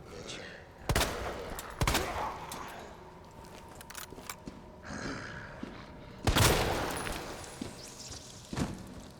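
Matilda handgun shots in the Resident Evil 2 video game, a few sharp single reports spaced seconds apart over a low ambient background, with a voice sighing and muttering in between.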